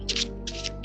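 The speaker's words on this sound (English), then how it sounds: "doing the overhand shuffle," Playing cards given an overhand shuffle, dropping in chunks from hand to hand: two short crisp bursts of papery riffling close by, with no voices.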